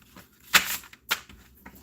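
Oracle cards are shuffled by hand, giving two short, crisp riffling bursts close by with quiet gaps between them.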